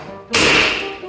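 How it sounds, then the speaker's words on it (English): Handles being knocked off a side-by-side refrigerator: one hard, sudden impact that bursts in close and loud, then rings and fades over most of a second. "He's gonna knock the handlebars off."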